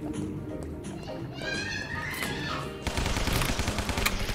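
Rapid machine-gun bursts in the hand-drawn 2D zombie shooter Guns, Gore & Cannoli, dense crackling fire that thickens and grows louder in the last second and a half, with game effects and a voice underneath.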